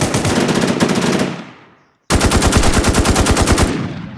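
Rapid automatic gunfire in the online zombie shooter NewZ, a loud sustained burst that fades out, a brief silence, then another close, steady rattling burst.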